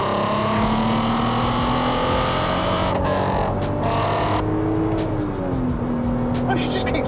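A heritage V8 Land Rover Defender with a six-speed gearbox accelerates hard, its engine a loud, steady, close drone that rises in pitch through the gears, with brief tire and road noise breaking through.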